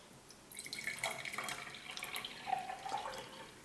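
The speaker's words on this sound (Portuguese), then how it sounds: "nós vamos encher um copo d'água" Water pours into a drinking glass from a tap, giving a faint, trickling, splashy flow with small drips that runs the whole time with no voices.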